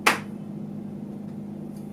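A single sharp hand clap, used as an editing marker between quotes during a recording session, rings out close and loud at the start, then quiet room tone follows.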